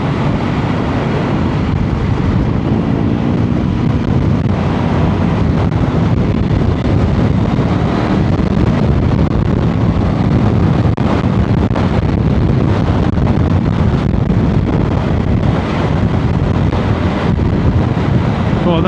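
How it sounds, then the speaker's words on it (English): Strong wind roars and buffets a microphone continuously while riding on route 17 toward the Arctic Circle in rain, a loud, steady rumble filling the whole stretch with gusty surges. "Oh, that wind is really strong."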